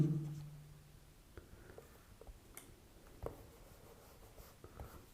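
Faint, close pen scratches and light taps come in scattered strokes and short clicks over a quiet background as someone writes a physics solution on semiconductor electronics.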